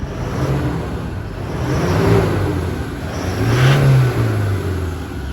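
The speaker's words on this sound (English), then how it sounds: "Just pop it out here, give it a bit of a rev for you." A Toyota Hilux SR5 diesel engine idles nearby, then revs up twice in smooth swells before settling back to a rumbling idle.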